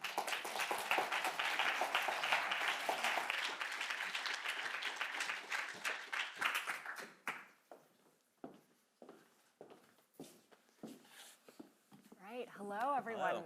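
An audience at a conference fireside chat applauds to welcome speakers to the stage, a dense burst of clapping that thins out into scattered claps, with a voice coming in at the end.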